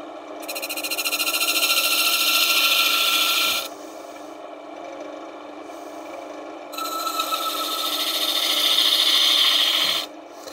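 A tool cuts a small groove into spinning wood on a wood lathe, producing a loud, sustained close scraping hiss that runs for several seconds, pauses, then resumes, with no talk.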